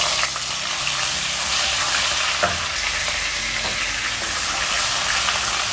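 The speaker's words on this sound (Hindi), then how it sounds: "अब ये हम सबसे पहले ऑयल के अंदर डालेंगे लहसुन पिसा हुआ" Ground garlic sizzles and fries in hot oil for a bitter gourd curry, a loud, steady, close crackle with faint stirring clinks and no voice.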